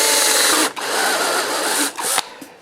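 A battery drill bores a screw chuck hole into a wooden platter blank, its motor whining loudly in a continuous run that breaks off briefly twice and shifts pitch as it works.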